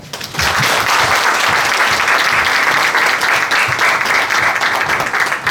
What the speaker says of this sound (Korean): 축복과 응원의 메시지를 가득 전해주신 이병헌 회장님께 다시 한번 큰 박수 보내주시기 바랍니다.